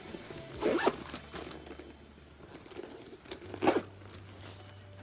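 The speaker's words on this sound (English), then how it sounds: "Let me zip it up." Two short zipper pulls on a makeup train case, about three seconds apart, close by in a quiet room with faint background hum.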